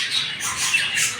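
A male budgie gives harsh, rasping squawks in quick succession, close and fairly loud, with no other sounds.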